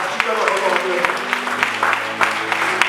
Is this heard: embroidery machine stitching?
no